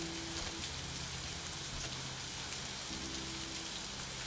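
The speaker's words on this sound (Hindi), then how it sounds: "तुम्हारी वजह से बारिश में फंस गए।" Steady rain falls on surfaces outdoors, a dense, even hiss that holds for several seconds with a faint low hum beneath and no speech.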